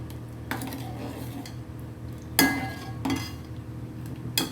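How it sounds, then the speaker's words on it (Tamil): A China grass and milk mixture for rose milk pudding is stirred in a pot, with metal spoon scrapes and clinks against the pot in a few sharp bursts over a low steady background. "கொஞ்சம் கிளறி விட்டே இருங்க,"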